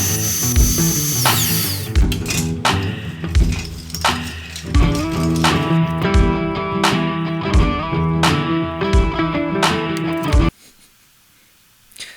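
A power saw rips and crosscuts small wooden spline strips for a keepsake box, a series of loud whining cuts broken by brief pauses and clunks of wood being repositioned, stopping abruptly into quiet.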